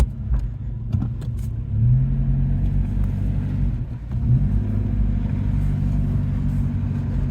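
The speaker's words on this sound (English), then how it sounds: "Let's take it for a little drive down here." A 1982 Saab 900 Turbo barn find sets off on a short drive, its engine a loud steady low rumble with a brief rev near two seconds and another swell past four, heard close from inside the car without talk.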